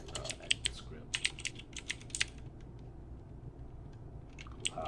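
Quick, light keystrokes on a computer keyboard come in short irregular clusters of close clicks over a low background hum, with no voices.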